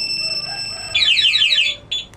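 A car anti-theft alarm sounds in a parking area, a loud warbling electronic siren that rises over a steady tone, breaks off, then briefly restarts.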